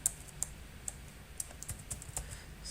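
Code syntax typed on a computer keyboard, a sparse run of about eight light, crisp key taps at uneven intervals, close and quiet against a soft background hiss.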